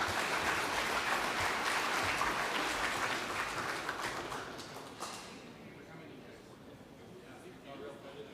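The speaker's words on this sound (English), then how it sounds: "another big round of applause for Billy and Edward." Steady applause from the audience at an Indigenous clean energy forum, dense and sustained at first, then thinning and fading away to a quiet room over the last few seconds.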